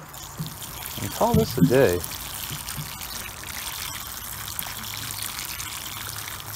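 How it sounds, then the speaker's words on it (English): Water is poured onto a freshly potted Oregon grape plant, a soft steady trickle that continues behind a man's brief speech outdoors. "I'll get it with some water"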